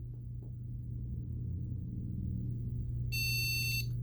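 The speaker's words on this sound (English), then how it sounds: "Those 3 beeps means it's not detected." A steady machine hum drones throughout, then a bright electronic motherboard beep code sounds near the end, loud and close, signalling a Zotac GTX 1080 Mini graphics card not detected.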